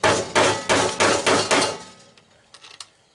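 A metal punch is hammered through a joined sanding belt resting directly on the floor, giving six loud, evenly spaced strikes over two seconds, then a few lighter taps trailing off.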